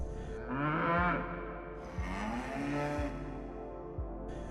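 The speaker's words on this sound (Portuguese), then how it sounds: "as 3 vacas, que já pareciam inquietas há algum tempo, deram um grande mugido" Three restless cows give several deep, drawn-out moos, some overlapping, with low bellows repeating about once a second against a steady background.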